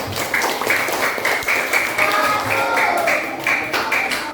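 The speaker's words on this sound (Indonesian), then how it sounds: "kasih tepuk tangan dulu ke temannya" Elementary school pupils in a classroom clap for their classmates in short, rhythmic bursts, a patterned clapping that repeats at an even beat and stays close and lively.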